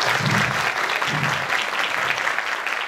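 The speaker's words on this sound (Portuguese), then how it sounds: "Então, uma salva de palmas para ele" An audience applauds a professor on his birthday at an academic event, a full, continuous burst of many people clapping at an even level, with faint low voices underneath.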